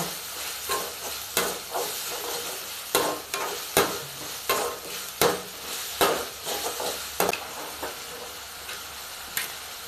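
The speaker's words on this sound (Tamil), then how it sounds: "இஞ்சி பூண்டு நல்லா வதங்கட்டும். இந்த பச்சை வாசனை போகிற அளவுக்கு நல்லா வதக்கிங்க." Ginger garlic paste sizzles in a pan for mutton gravy, with a spatula scraping and stirring in sharp irregular strokes over a steady frying hiss, close and fairly loud.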